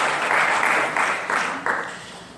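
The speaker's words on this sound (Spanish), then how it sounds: "Dale un aplauso al Señor" A brief burst of congregational applause during a church sermon, fairly loud and dense, swelling in a few waves before starting to fade.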